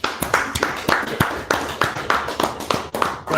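An audience at a church gathering claps in a steady rhythmic beat, sharp repeated hand claps at an even pace, close and fairly loud.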